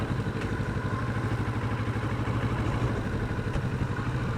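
A motorcycle engine rumbling steadily on a street, a continuous loud, close drone with a faint clatter and no talk.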